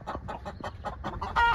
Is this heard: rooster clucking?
yes